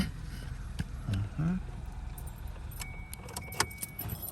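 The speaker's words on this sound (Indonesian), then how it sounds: "Saya keluar dulu dari mobil." Someone getting out of a car, with a thud of movement and then a close bright jingle of keys, low engine-like rumble underneath throughout.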